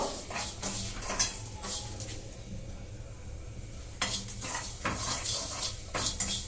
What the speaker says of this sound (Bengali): আমি ক্যারামেলটা বানাবো চিনিটাকে নেড়ে নেড়ে আমি ক্যারামেলাইজ করবো